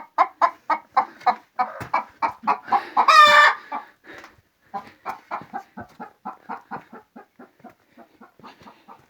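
Chickens cluck in a steady rhythmic series, close by in a henhouse, with a brief louder squawk partway through; no talking.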